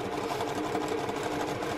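A sewing machine fitted with a quarter-inch foot stitches a quilt block in one short, steady burst of rapid mechanical whirring and needle chatter, close and alone.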